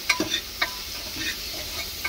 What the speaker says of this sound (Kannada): ಈರುಳ್ಳಿ ಹಾಕ್ಕೊಂಡ್ವಿ, ಟೊಮೊಟೊ ಹಾಕ್ಕೊಂಡ್ವಿ, ಸ್ವಲ್ಪ ಮೆಣಸಿನ್ಕಾಯಿ ಹಾಕ್ಕೊಂಡು ಎಲ್ಲ ಚೆನ್ನಾಗಿ ರೋಸ್ಟ್ ಮಾಡ್ಕೊತಾ ಇದ್ದೀವಿ